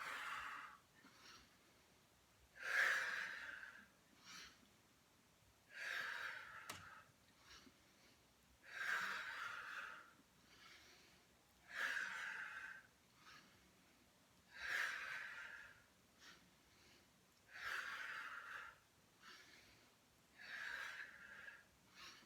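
Rhythmic exhaled breaths during an advanced Pilates mat exercise, about eight forceful breaths repeating every two to three seconds, close and moderately loud with no talking.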